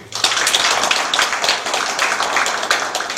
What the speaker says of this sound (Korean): 큰 박수 한번 보내주세요